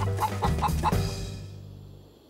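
A hen in a Lucky Luke cartoon lets out four quick clucks in a row, fairly close, then the sound fades away.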